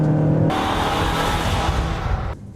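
2016 Mazda6 or CX-5 engine accelerating hard under an automatic transmission, a loud, rising engine roar heard from inside the car that cuts off abruptly near the end.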